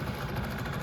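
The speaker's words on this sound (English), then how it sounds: "But it's a weird engine. It runs at 25 to 1." A two-stroke boat engine running on a 25-to-1 fuel mix idles with a low, steady rumble and a faint rhythmic throb, moderately quiet and close by, with no voices.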